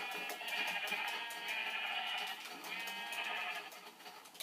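Sheep bleat in the video game Minecraft, sustained wavering calls that fill the clip, fairly loud and close with no talk over them.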